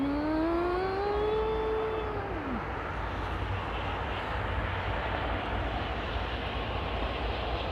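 Airliner on approach to London Heathrow Airport, a loud broad roar with a whining engine tone gliding downward, steady and close, no voices.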